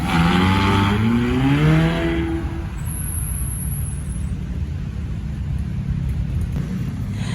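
Vehicles at a motorcycle rally rev and pass close by, one engine rising in pitch then fading, followed by a steady drone of traffic and a brief high whine.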